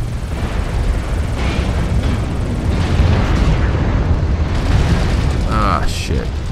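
In MechWarrior Online a Roughneck 3A mech takes fire from behind, heard as a dense, continuous roar of impacts and mechanical rumble with a few sharper hits near the end.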